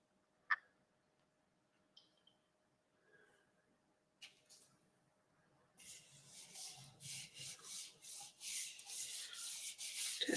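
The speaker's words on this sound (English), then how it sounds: "Just give that a good rub just to spread that glue around." A card being rubbed by hand to spread glue, a few faint taps at first, then a close, steady rhythmic papery rubbing and scuffing that grows louder toward the end.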